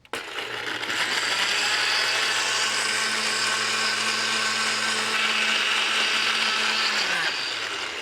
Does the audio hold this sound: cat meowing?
no